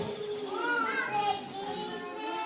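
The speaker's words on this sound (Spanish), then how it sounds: "Escucho mucho ruido, hermanos, de los niños." Children's voices chatter and cry in a church hall during a sermon, a steady, busy murmur of overlapping young voices mixed with adult talk throughout.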